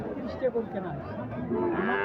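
A bull moos loudly nearby at a cattle market in Chittagong, followed by more lowing amid a busy crowd with people talking in the background.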